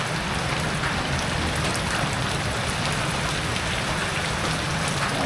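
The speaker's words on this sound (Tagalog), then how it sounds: "Umuulan pa." Heavy rain pouring down steadily during flooding, a dense, constant hiss of drops hitting surfaces close by, loud and unbroken with no voices.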